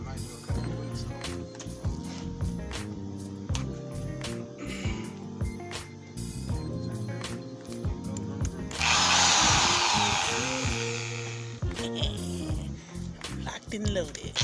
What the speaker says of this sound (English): Drill's not nearly as loud as the car.